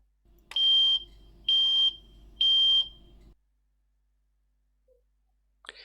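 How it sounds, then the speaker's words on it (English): Shelly Gas sensor alarm sounding during its self-test: three loud, piercing high-pitched beeps, each about half a second long, evenly spaced over low background hum, then quiet with a faint click near the end. "The alarm was tested"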